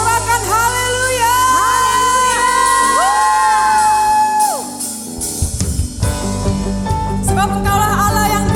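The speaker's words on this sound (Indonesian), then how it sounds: "Sorakan haleluya" Church congregation at a GBI Taman Modern Indonesian worship service shouting hallelujah, a loud rising chorus of many voices whooping and cheering together, with sustained tones carrying over the crowd.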